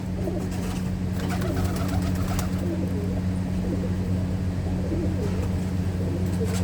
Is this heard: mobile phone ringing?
no